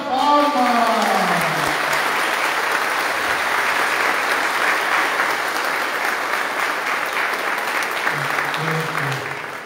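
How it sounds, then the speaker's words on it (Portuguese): A congregation at a Mass installing a new parish priest breaks into warm, sustained applause that fills the church, with a voice speaking briefly at the start and again near the end. "Ao novo pároco, porque está sacramentado a sua posse com as leituras e, sobretudo, agora com a leitura da ata, uma calorosa salva de palmas."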